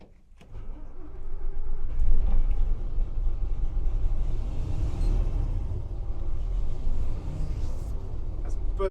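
An old bus engine starts and settles into a steady, loud, low rumbling idle that runs continuously for several seconds.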